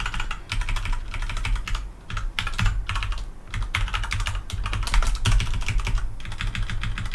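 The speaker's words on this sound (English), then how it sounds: "It's just typing." Rapid, continuous typing on a computer keyboard, dense clattering keystrokes close up with brief lulls, over a low background hum and with no talking.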